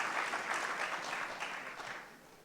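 Audience applause in a conference hall during a fireside chat with the CEO of JP Morgan Chase, a dense round of many clapping hands that holds steady and then fades out near the end.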